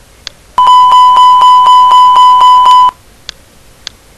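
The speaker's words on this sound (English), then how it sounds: "in order to stop that beeping sound, you have to turn on the fuel pumps" A loud electronic cockpit warning tone in a flight simulator beeps in a steady rapid series for about two seconds, then stops as the fuel pumps are switched on, with a few faint clicks before and after.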